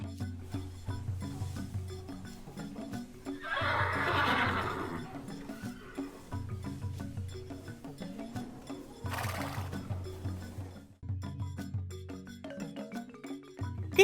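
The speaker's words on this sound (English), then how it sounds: "Horses like Fiona are used for riding, pulling carts and other farm work" A horse on a farm whinnies twice, loud, long neighs standing out over steady background music, with no talking.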